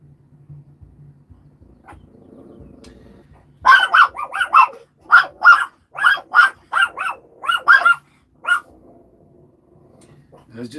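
Dogs (pups) bark in a rapid volley of loud, close, sharp barks in the middle of the clip, with growls and soft whimpers, while faint talk is heard around them.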